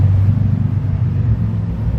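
The 3.0L engine of a 1990 Nissan Maxima GXE idles in reverse gear, a steady low rumble close by with slight wavering and no talking.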